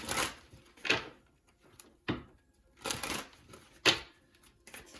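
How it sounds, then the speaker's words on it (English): A deck of tarot cards being shuffled, heard as four separate crisp riffling bursts spread unevenly across the span, close and fairly loud, with quiet pauses between and no voices. "Let me shuffle the deck."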